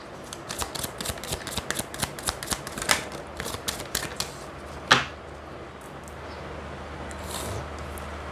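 Tarot cards being shuffled and drawn during a reading: a run of quick papery riffles and flicks over the first five seconds, ending in one sharper snap, then quiet handling.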